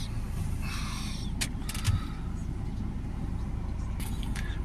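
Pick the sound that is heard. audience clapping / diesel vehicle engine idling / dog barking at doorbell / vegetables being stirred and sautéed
diesel vehicle engine idling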